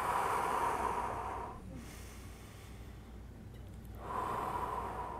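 Slow relaxation breathing: a steady, airy inhale or exhale, then a quiet pause of a couple of seconds, then the breath sound returning. It is close and soft, with no talking.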